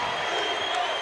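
A basketball crowd in Humphrey Coliseum during a Mississippi State women's game against Florida, a brief swell of cheering and applause filling the arena, loud and sustained.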